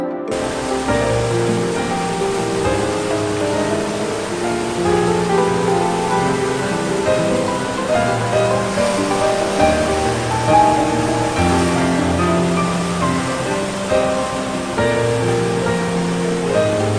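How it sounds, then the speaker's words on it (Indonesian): Floodwater from a river in flood at Pacet, Mojokerto rushes in a loud, steady roar of churning water that holds constant throughout, with no talk over it. "Banjir di Sungai Kromong, ada korban warung saudara Caryit yang kena longsor"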